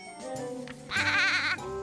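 A lamb in a video game bleats once, a short, wavering cry heard up close against soft game music.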